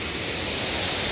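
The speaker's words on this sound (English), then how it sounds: "a nice little mountain stream, little waterfall," A small man-made waterfall on a mountain stream gives a steady, close, broadband rush of falling water, continuous and unbroken, with no voices over it.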